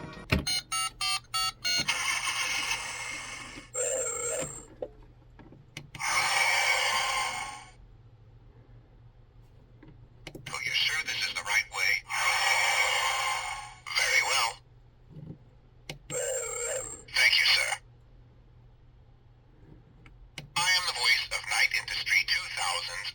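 Electronic beeps, whooshes and synthesized voice effects from a Transformers Crossovers Agent Knight toy modelled on KITT, playing in several bursts separated by quiet gaps, close and clear.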